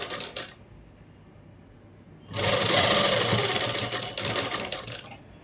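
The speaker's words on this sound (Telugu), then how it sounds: "తీసేసుకొని ఇలా పెట్టి కుట్టు అనేది వేసుకుంటూ వచ్చేసేయాలండి." A sewing machine stitches a dress with matching thread, first in a short burst, then after a quiet pause in a loud, steady run of rapid needle strokes lasting several seconds.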